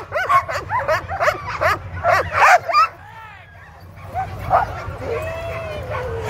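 Sled dogs at a race start bark, yip and whimper excitedly in a rapid overlapping chorus up close, thinning into scattered yelps and a few whines.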